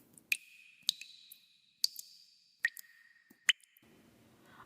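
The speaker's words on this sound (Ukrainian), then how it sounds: "давайте разом послухаємо голос води" Slow, clear water drops fall one by one into a resonant pool, each plink ringing briefly in a quiet space, about six drips in all.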